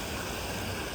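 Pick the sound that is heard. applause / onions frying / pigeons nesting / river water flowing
river water flowing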